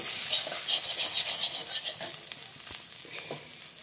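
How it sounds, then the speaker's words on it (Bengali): Kochu shak with turmeric, salt and sugar frying in a pan, a loud close hiss of sizzling oil with brisk stirring scrapes that ease off toward the end. "ভালো করে ভেজে নামিয়ে নিতে হবে।"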